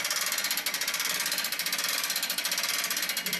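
A hand ratchet cranks up a Proline Lift King truck bed lift in rapid, even clicks close by. The clicking is crisp and continuous and stays steady for several seconds with no voices.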